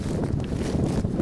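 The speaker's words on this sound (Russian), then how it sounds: "Ветер сюда дует, ко мне." Wind buffeting the microphone outdoors during a morning goose hunt in Canada, a dense low rumbling roar that fills the short moment without pause, loud and close.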